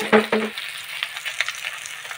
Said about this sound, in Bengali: আর এখানে দেখো মাছ ভাজা হচ্ছে